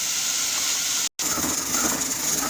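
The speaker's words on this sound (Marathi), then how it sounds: "दोन मिनटं परतू द्यायचं हे वाटण या तेलामध्ये" Ground spice paste with mutton masala and turmeric frying in oil, a steady, fairly loud sizzling hiss throughout, broken by one very brief cutout.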